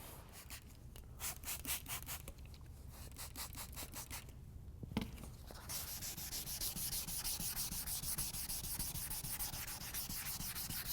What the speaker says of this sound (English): now I'm going to step my grit up to 400